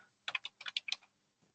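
Someone typing on a computer keyboard during an online maths lesson: a quick, close burst of about eight crisp keystrokes, then quiet, with no talking.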